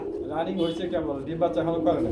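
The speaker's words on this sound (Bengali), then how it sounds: "আমরা কি দেখতে পাচ্ছি ব্রাদার হাউস পিজন কবুতর" House pigeons, a breeding pair of racer birds kept at a pigeon seller's, coo in low rolling throaty calls close by, repeating steadily under and between men's conversation.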